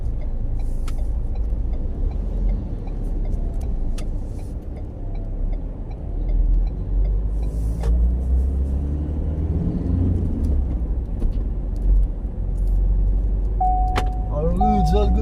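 A Ford Ranger 4x4 pickup, just fitted with a new clutch, is driven on a road test, its engine and tyres giving a steady low rumble from inside the cab. Someone speaks briefly and a short electronic beep sounds near the end.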